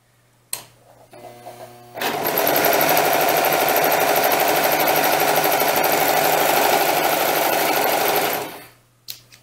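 A sewing machine stitches doll dress fabric, starting with a few slow stitches and then running fast and steady for about six seconds before stopping, loud and close with no talking.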